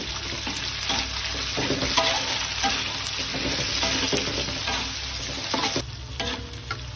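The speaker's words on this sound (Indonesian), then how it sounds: "langsung aja kita masukin cabai tomatnya ini ya. Kita tumis sampai cabainya layu" Chillies and tomato sautéed in hot oil, the base for prawns in oyster sauce, make a steady, dense sizzle close by, with occasional spatula scrapes and stirring clicks throughout and no voices.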